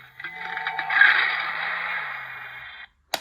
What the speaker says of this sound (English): So it vibrates as you open and close it.